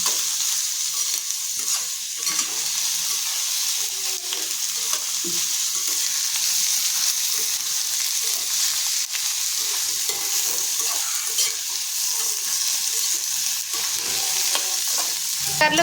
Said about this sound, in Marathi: हे धुतलेलं काटलं आपण कांद्यात पूर्ण मिक्स करून घ्यायचं